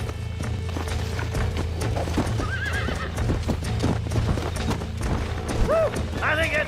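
Hooves clip-clop rhythmically while a horse whinnies twice, with a busy game soundscape underneath, in the video game Red Dead Redemption.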